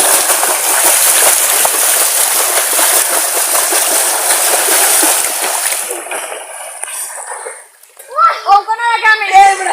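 Continuous churning splashes from a diving and swimming challenge in open water fill the first six seconds, then give way to excited voices talking and calling out.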